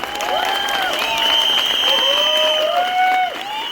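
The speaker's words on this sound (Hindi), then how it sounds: "तो क्या आप अपना प्यार और अपना हौसला इन्हें देंगे तालियों के जरिए?" Audience applause at a launch event for the cast of the movie 120 Bahadur, a steady burst of clapping lasting several seconds with a few whistles and cheers rising over it before it fades.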